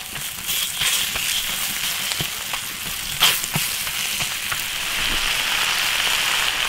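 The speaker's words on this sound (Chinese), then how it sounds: "再把10个皮蛋下锅，用勺子把它推推" Ten century eggs stir-fry with chili peppers and chili sauce in an iron wok, a continuous bright sizzle broken by scattered clicks and knocks as a spoon pushes them around, close and steady.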